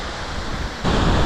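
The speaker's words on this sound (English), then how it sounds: "there are waterfalls and water just running everywhere" Running water and waterfalls on a mountain trek near the village of Huayapa in Peru's Huayhuash range make a steady, broadband rush that suddenly jumps louder and nearer partway through, with no talk.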